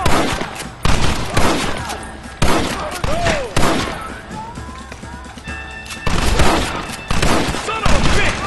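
Repeated gunshots crack sharply in the Red Dead Redemption game, bursts of rifle and pistol fire spaced through a chaotic firefight with shouting voices and a brief whistling tone.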